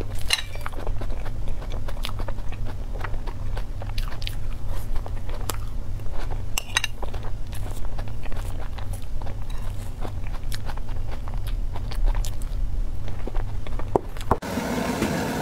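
Close, steady biting and chewing of cookies and cream cookies goes on for about fourteen seconds, with crisp crunches over a low constant background. A brief clatter comes at the end. No one speaks.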